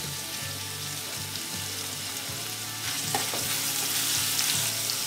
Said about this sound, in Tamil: பாதி வெங்காயம் போட்டுக்கலாம்.